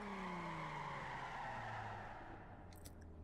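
A car in The Crew racing game decelerates under braking, its engine tone sliding downward with tire scrub, ending in a few faint clicks as the sound fades.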